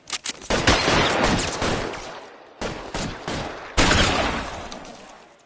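Gunfire in the video game L.A. Noire: several loud, close bursts of rapid shots, each cut off sharply, with a couple of short single cracks at the start and no talking.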